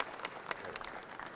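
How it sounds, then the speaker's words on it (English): Audience applause for a pitch presenter at a sports entrepreneurship master class, a brief steady patter of clapping at moderate level with no talk over it. "Let's give him a round of applause."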